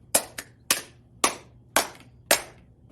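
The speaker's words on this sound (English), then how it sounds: "at the very end, we'll go back to the claps" Six sharp hand claps in an uneven rhythm during a children's Sunday School song, each crisp and close, separated by brief quiet gaps, no voices.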